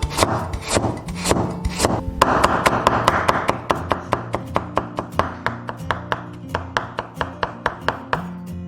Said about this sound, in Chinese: 切一些胡萝卜丝